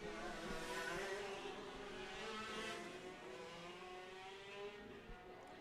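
Shifter karts racing down a back straightaway at over 85 mph, high-pitched engines revving hard in a layered whine that rises and shifts as the karts pass, fairly faint and without commentary.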